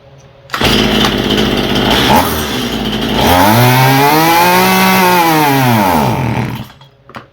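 A Stihl MS171 chainsaw with carburetor trouble fires up and runs loud and close, idling roughly before revving up in a rising and falling whine, then cutting off abruptly.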